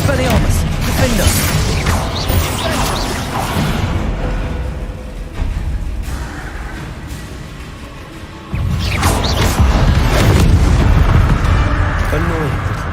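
A Bombarda explosion spell cast in a wizarding video game, booming blasts and rumbling debris, loud and sustained with a sharp surge near the end.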